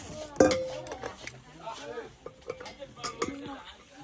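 Metal knives clink and knock together as a knife set is fitted into its holder, with one bright ringing clink followed by smaller scattered taps and rattles under faint background talk.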